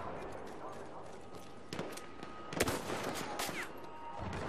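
Gunfire in the video game Battlefield 1: several sharp shots and short bursts over steady battlefield noise, with a few louder cracks close by and a player talking over the action.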